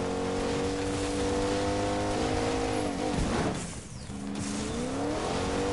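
A car engine in the video game Fortnite drives steadily, its sustained hum shifting in pitch as it accelerates and passes, fairly loud and continuous with no talk over it.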